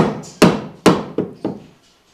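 Four sharp hammer strikes drive threaded galvanized nails at an angle into solid wood floorboards, two loud blows followed by two slightly softer ones, each with a short ringing decay and no talk.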